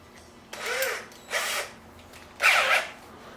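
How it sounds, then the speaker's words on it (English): A power drill bores holes into a Cerwin Vega LS 12 speaker cabinet, running in three separate short bursts, close and loud with quiet gaps between them. "but I have to know where to drill the holes first."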